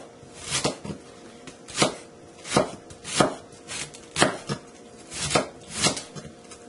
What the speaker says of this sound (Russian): Капусту режем тонкой соломкой.